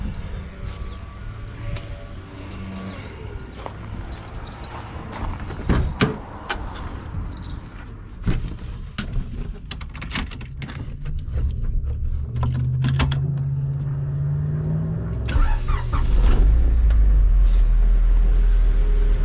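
A Honda Civic with a Mugen twin loop replica muffler on a cold start, idling roughly and quietly; a low steady engine hum builds toward the end amid scattered clicks and handling noises.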